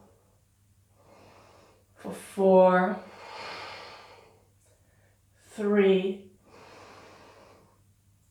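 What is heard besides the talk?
breathing during a yoga pose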